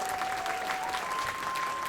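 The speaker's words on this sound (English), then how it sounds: "Just a round of applause for these guys." Applause from the crowd at a Lawrence, MA Elks gathering, greeting the people who saved Tom's life: dense, steady clapping that carries evenly through the whole stretch with no pauses.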